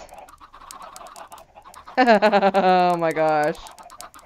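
Cluckia chickens in Minecraft let out a loud, close burst of rapid warbling clucks lasting under two seconds, after a short exclamation from a person and over quiet background game noise.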